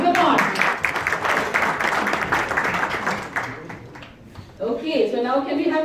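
An audience at a BenQ 4K projector launch event claps for a presenting team, a dense wash of applause that fades after a few seconds, while a voice speaks over it and carries on once the clapping dies down.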